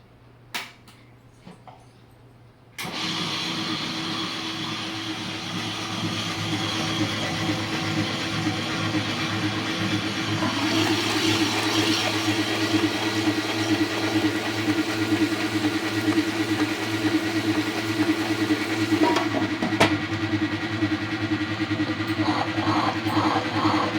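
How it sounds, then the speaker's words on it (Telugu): After a few quiet seconds, a stone wet grinder grinding vada batter starts abruptly and keeps running as a steady churning hum, growing slightly louder and continuing without pause. "ఇప్పుడైతే మనం గ్రైండర్ని ఆన్ చేసేద్దాము"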